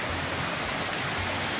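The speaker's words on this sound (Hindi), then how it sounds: "लेफ्ट साइड में एक छोटा वाला झरना है" A small waterfall in the hills on a snowy mountain road trip gives a steady, close, full rushing wash of falling water, continuous and unbroken with no voices.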